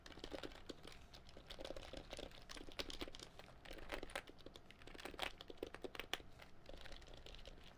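Fingers typing on a keyboard fitted with new keycaps, producing a quiet, steady run of light plastic clicks and taps with brief pauses, close and without speech.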